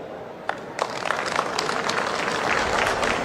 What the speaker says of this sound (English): give him a big round of applause, dear ladies and gentlemen. Put your hands together.